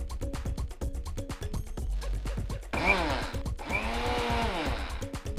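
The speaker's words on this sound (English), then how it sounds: "into this sugar we will add our roasted semolina and just give it 2 to 3 pulses of grinding to mix everything properly" Mixer grinder pulsing sugar and roasted semolina in short bursts, two loud whirring grinds each lasting about a second, separated by brief pauses and preceded by clicking handling noises.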